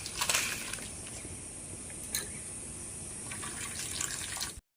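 Water from boiled lote fish pours out through a strainer, a steady splashing stream with a few louder sloshes, fairly close and alone.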